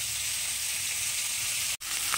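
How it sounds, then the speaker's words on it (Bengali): Fish pieces, heads and tails, fry in hot oil in a pan in a home kitchen, giving a steady, loud, close sizzle. A brief cut of silence breaks it near the end, then the frying resumes. "মাছ ভাজা হচ্ছে"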